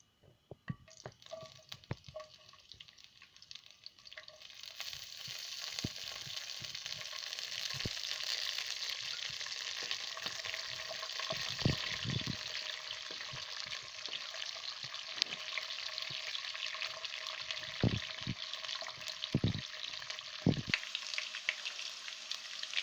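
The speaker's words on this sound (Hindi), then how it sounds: "ऑयल गर्म होने के बाद हम इसमें ड्राई फ्रूट्स डाल देंगे।" Dry fruits fry in hot oil in a kadhai, with a quiet start building into a continuous bubbling sizzle and occasional stirring knocks and scrapes against the metal.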